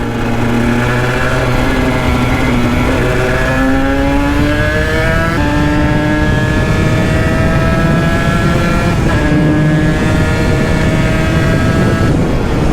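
A two-stroke Aprilia motorcycle engine screams loudly through repeated rising revs as it accelerates through the gears, close and buzzing with pitch climbing steeply and dropping at each shift, no voices.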